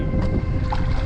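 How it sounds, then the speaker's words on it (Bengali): A motor boat engine runs steadily at close range on open water heading toward Sabuj Dwip island near Kolkata, its low rumble continuous and loud with wind noise over the top. "নৌকা স্টার্ট হয়ে গেছে"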